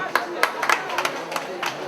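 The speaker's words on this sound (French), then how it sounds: "Sous vos applaudissements." Scattered clapping from a small crowd at an outdoor protest rally in Turin, Italy, held in support of the Wê people. A handful of separate, uneven claps sound over a speaking voice.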